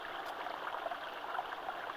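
Creek water rushing and babbling over its bed along a wooded forest stretch, a steady broadband wash with small gurgles, close and continuous, with no speech.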